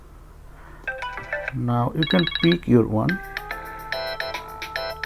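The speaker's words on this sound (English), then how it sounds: "Now there are a lot of ringtones here." iPhone 6s Plus ringtone previews play one after another: bright electronic melodies and chiming tone patterns in short bursts, while someone talks over them.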